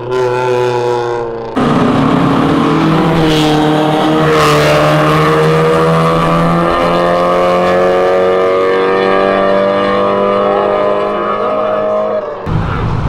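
A car accelerates hard away from a car meet, its engine rising in pitch as it revs up through a long pull, loud and close throughout with a brief drop before the surge.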